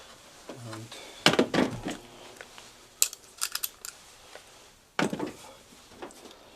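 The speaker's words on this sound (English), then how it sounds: "You can use the same Miele tool or a flat screwdriver to pry these side panels out like this." Flat screwdriver prying the side panels off a Miele washing machine: a few scattered plastic snaps, clicks and thunks, separated by quiet gaps, with a short hum early on.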